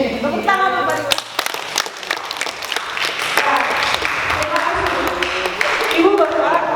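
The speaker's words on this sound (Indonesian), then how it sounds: "Tepuk tangan Pak Dimas" An audience at a school presentation on positive culture breaks into lively applause mixed with cheering voices, loud and close, with people talking throughout.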